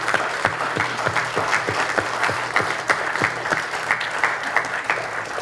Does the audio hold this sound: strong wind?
no